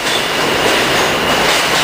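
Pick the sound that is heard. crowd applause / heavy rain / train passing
train passing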